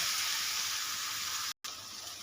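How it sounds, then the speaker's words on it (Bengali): Water poured into a pan of spiced frying masala for a ribbonfish curry sets off a loud, steady hiss that sizzles throughout, cut by one brief silence before resuming. "কষানো প্রায় হয়ে গেছে, এবারে আমি জল দিয়ে দেব।"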